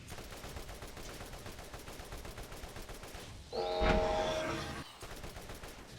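Corrosive weapon gunfire from Borderlands 1, a dense run of rapid shots in steady bursts, followed by a louder, brighter blast with a ringing tail before the firing resumes.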